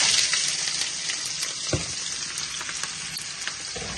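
Okra, sliced onion and green chilli fry in hot oil with a steady, close sizzle and a few soft stirring clicks throughout.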